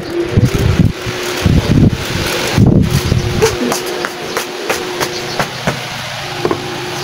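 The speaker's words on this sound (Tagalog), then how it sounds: "Tingnan natin yung electric fan." Household electric fan whirring steadily on a hot day, with irregular rustling and clattering bursts over the hum and a voice speaking intermittently.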